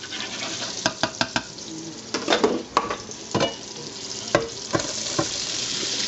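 A good amount of onions cook in butter and olive oil for French onion soup, a steady close sizzle punctuated by clacking, scraping stirs of a utensil against the pan, no speech.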